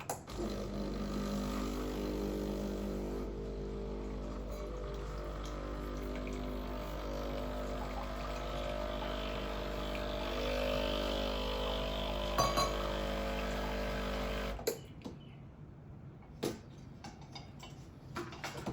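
A Breville Barista Express BES870 espresso machine runs a blank shot, humming steadily for several seconds with faint ticking and clinks, then cuts off, leaving quiet room sound with a few small clicks.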